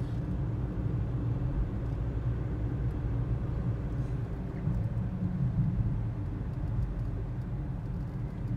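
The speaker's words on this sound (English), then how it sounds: "We see all the cars, all the buses are going down that new ramp right now" Steady low rumble of cars and buses driving down a newly opened southbound road ramp near the Magic Kingdom at Walt Disney World, a continuous even traffic drone with no talk.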